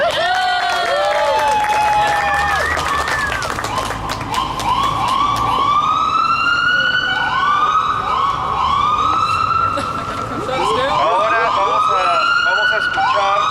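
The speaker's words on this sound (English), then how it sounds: "Vamos a escuchar la ambulancia." An ambulance siren wails loudly and continuously at an outdoor vigil in Terry Shrunk Park, Portland, its rising and falling tones sweeping past for the whole stretch over a crowd's background murmur.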